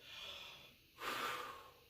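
A quick, forceful breath drawn in and pushed out as a fast breathing drill for bugle playing, a sharp rushing burst after a softer airy exhale, close and alone.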